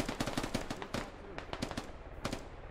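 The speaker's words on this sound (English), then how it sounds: "taking shots from definitely the opposite side of the bridge" Rapid close bursts of automatic gunfire and single sharp shots in a video game battle around a bridge, crackling in quick succession over about three seconds.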